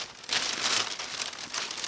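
A large plastic bag holding Turkish sweets such as kunafa, baklava and ice cream crinkles close up in a shop, with steady rustling and crumpling in uneven bursts and no talking.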